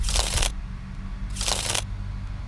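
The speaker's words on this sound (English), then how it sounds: "So I'll shuffle the cards and pick the first card." Two quick bursts of cards being riffle-shuffled, a crisp fluttering rattle each, separated by a short pause, close and clear.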